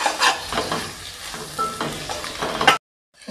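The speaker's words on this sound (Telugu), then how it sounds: "ఎగ్ అయితే నూనెలో అయితే మంచిగా ఫ్రై అయింది." Boiled eggs frying and sizzling in hot oil in a pan, stirred with a spoon; a steady crackling sizzle with scraping stirring strokes, close and fairly loud, ending abruptly.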